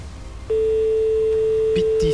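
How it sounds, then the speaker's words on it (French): A single telephone ring tone during a prize-draw call, a steady electronic tone that starts after half a second and holds to the end, with faint room noise and a brief voice near the close. "Première sonnerie."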